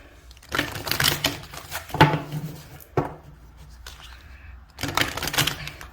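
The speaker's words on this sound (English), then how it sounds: "Just gonna give them a shuffle." Career and money oracle cards are shuffled by hand close to the mic, making several short papery bursts of riffling and flicking separated by quiet pauses.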